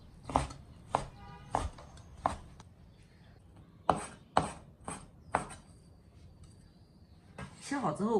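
Knife chopping through pork for wonton and dumpling filling on a cutting board, about eight sharp, irregular thuds spaced across the clip, close and distinct, with quiet kitchen noise between strokes.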